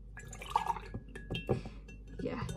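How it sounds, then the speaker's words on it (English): Milk pours into a gingerbread-shaped mug in a home kitchen, a soft trickling and gurgling fill with a few clinks of the glassy mug, close up and fairly quiet. "I'm going to pour some in the mug so I know how much"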